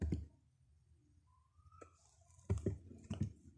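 Someone types a tax PIN on a computer keyboard, giving soft, close clicks: an opening tap, a long quiet gap with faint sounds, then a cluster of sharper keystrokes near the end.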